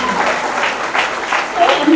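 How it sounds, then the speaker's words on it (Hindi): A brief burst of audience clapping at a special film screening of Blurr, heard close and fairly loud with a voice speaking over it. "तो एक बार तालियां हो जाए"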